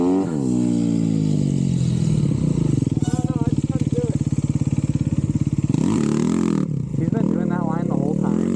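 A 2021 Yamaha YZ250 two-stroke dirt bike rides close by, its engine holding a loud, buzzing drone. The pitch rises and falls as the throttle opens and closes, and the engine drops off briefly near the end before picking up again.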